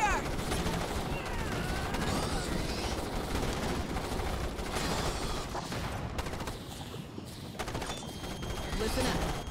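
Rapid gunfire from the Starship Troopers: Terran Command video game, dense bursts of automatic rifle fire and impacts layered with soldiers' shouted voices, busy and close throughout.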